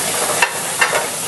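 Oysters poaching in the cooking juices left from a beef fillet; a steady close sizzle with two or three faint stirring scrapes over a brief moment.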